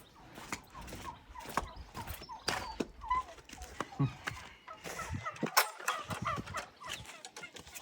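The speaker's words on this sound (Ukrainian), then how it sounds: "Та що, індики гуляють." Turkeys cluck and gobble in bursts across a farmyard, with scattered creaks and rustles; no talking.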